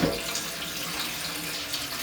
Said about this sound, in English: Filtered water going in.